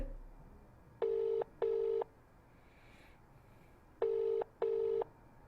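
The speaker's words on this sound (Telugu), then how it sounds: "రింగ్ అవుతుంది." Two pairs of short telephone ringing beeps, a brief gap within each pair and a longer pause between them, over low line hiss.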